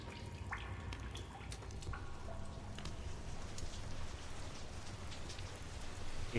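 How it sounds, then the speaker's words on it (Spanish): Steady rain falling in the exploration video game The Solus Project, a soft continuous patter with scattered drips, even and fairly quiet throughout. "Está lloviendo."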